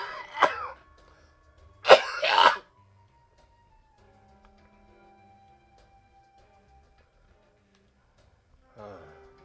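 A person coughs and clears their throat in a few short, harsh bursts near the start, then falls quiet with a faint steady tone, before a softer rasp near the end.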